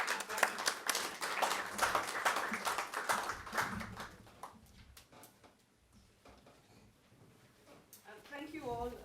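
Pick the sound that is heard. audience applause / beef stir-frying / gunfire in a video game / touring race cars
audience applause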